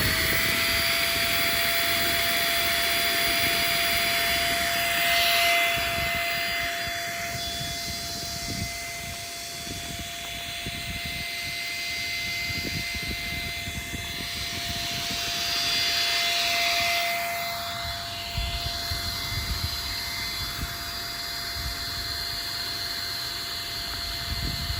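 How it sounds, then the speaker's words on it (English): A 500 W electric air pump draws the air out of an airtight inflatable projector screen, making a loud, continuous whine and roar close by. Its pitch holds steady with slight swells and runs the whole time without speech. "The pump is removing all the air."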